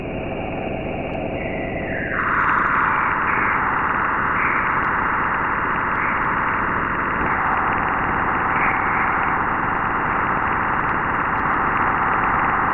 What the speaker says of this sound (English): That is the sound of the crossing of the magnetopause